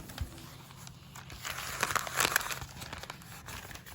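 Thin 52 GSM Tomoe River paper crinkles and rustles close by, a soft crackly handling sound that swells in the middle and then tapers, with no voices.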